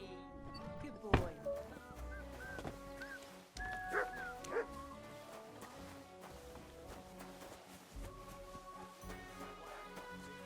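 A dog in Kingdom Come Deliverance 2 gives a few short barks and yips over background game music, fairly quiet and mid-distance.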